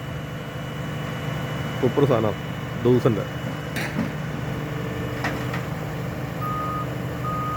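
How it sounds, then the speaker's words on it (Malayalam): A forklift-type all-in-one loader offloads pipes from a truck in Germany, its engine droning steadily while short reversing beeps sound near the end. Someone talks over the machine noise. "അങ്ങനെ പൈപ്പ് ഓഫ്ലോഡ് ചെയ്യുന്നു. ഒരു fork lift come all in all വണ്ടിയത്"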